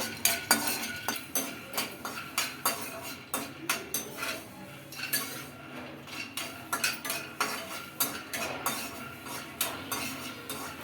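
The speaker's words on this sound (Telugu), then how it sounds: "పల్లీలు కాస్త దోరగా ఫ్రై చేసుకోవాలి" Peanuts frying in a kadai (wok) with a spatula scraping and clinking against the metal in a quick repeating rhythm over a light sizzle, loud and close, with no talking.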